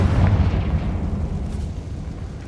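A Confringo spell in Hogwarts Legacy goes off as one deep, booming blast that rolls out and fades over a couple of seconds.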